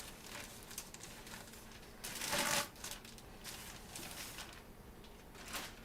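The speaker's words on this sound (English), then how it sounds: "Got it in a big plastic bag. get it sealed." A large plastic bag handled and sealed, with soft crinkling and rustling throughout and one louder crumpling burst partway through, close and moderately quiet.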